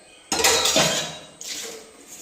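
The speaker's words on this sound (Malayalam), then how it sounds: "അപ്പോഴേ കുറച്ച് പാത്രങ്ങളുണ്ട് കഴുകി വയ്ക്കാം" Metal dishes and pots clattering and clinking together in two short bursts, close by, as if being rinsed and stacked.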